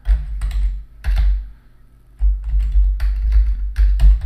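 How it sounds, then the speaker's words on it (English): Login details typed on a computer keyboard give close, crisp clusters of key taps in quick bursts separated by a short pause, loud and without talk. "Now I'm gonna type in the right one."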